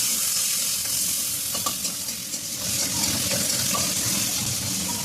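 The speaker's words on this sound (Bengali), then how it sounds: "এগুলো তো নাড়াচাড়া করে নিচ্ছি।" Chopped onions with black cumin and green chilies fry in oil in a pan. A loud steady sizzle runs throughout, with a few soft scraping knocks from stirring.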